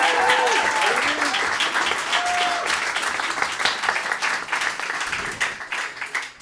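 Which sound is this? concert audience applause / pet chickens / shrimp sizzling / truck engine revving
concert audience applause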